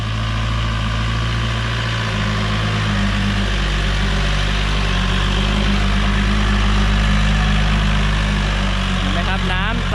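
A small Thai farm truck carrying a 5-ton water tank runs its new engine, a loud, steady low diesel drone held close throughout, with someone talking over it.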